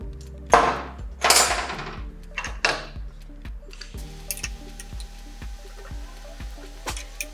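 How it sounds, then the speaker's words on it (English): Tightening a motorcycle taillight bolt with a 12mm wrench and 10mm socket on an SG250 bike: sharp metallic clicks and taps from the tools, a few louder ratchety scrapes early, then quieter repeated ticks, with no one speaking. "Now we're going to tighten that down with a 12mm wrench and a 10mm socket."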